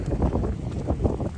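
Wind buffeting the microphone on a seaside golf course, a loud, low, gusty rumble that swells and dips throughout, with no one speaking.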